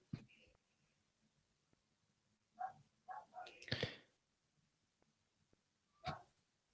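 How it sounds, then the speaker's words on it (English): A dog barks downstairs inside a house. The barks are faint and distant, coming in a short cluster of sharp yaps in the middle, then one more bark near the end, with near silence between them. "she barks when there's a leaf in the yard"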